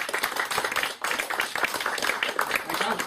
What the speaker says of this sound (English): let's have a nice round of applause here for our speakers